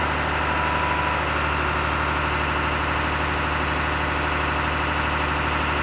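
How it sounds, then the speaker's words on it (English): A big Army M35A3 military diesel truck engine idles close by, a steady low throbbing rumble with a rhythmic knock and no other sounds. "hearing an engine run for the first time"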